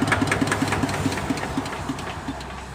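A Kubota RT100 tractor engine idles nearby with a steady, even chugging thump, several beats a second, running without a break and with no voices over it.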